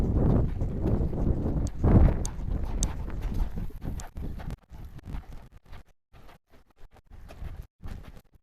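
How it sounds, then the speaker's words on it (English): Horse loping around an arena, hooves thudding in a loose rhythmic beat under steady wind-like rumble, then slowing and fading to sparser soft clip-clops near the end, with no voices. "We'll lope all the way around."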